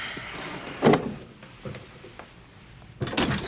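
A dresser drawer is pulled open and rummaged in a quiet room, with a wooden slide and knock near the start, smaller shuffles in the middle and a second scraping slide at the end.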